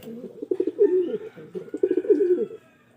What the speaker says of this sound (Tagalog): Yan mga kalapatids, may itlog na yan.